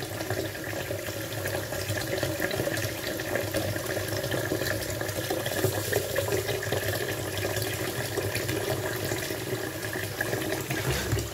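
Tap water runs steadily into a kitchen sink while small fish are washed, a soft, continuous splashing flow at moderate distance with no voices.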